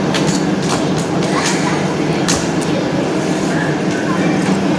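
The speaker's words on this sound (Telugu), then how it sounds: "ఇప్పుడు ట్రైన్ అయితే వస్తుంది చూడండి." A train pulls into a railway station, giving a steady loud rumble with faint clacking under a busy crowd at the platform, where people talk throughout and scattered sharper knocks come and go.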